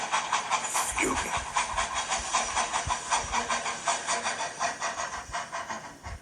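A steam roller from Thomas & Friends chuffs and hisses in a steady, rapid rhythm, loud and close, with continuous steam noise throughout.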